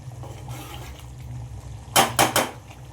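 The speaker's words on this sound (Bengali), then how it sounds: "ঢাকনাটা খুলে একবার দেখে নেব। একবার নাড়িয়ে দেবো।" A metal pot lid lifts off and a spoon scrapes through chicken biryani, giving a few sharp clattering knocks near the end over a low kitchen background hum.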